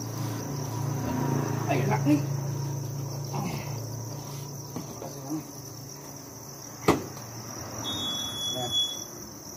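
Crickets on a cricket farm chirp in a steady high-pitched drone, with a brief sharp click and a few words spoken nearby in Vietnamese.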